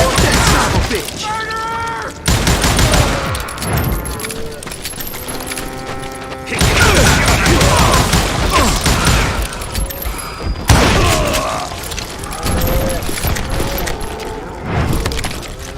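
Rapid gunfire erupts in bursts during a Call of Juarez: Gunslinger shootout, loud and dense, with brief pauses and metallic ringing tones between volleys.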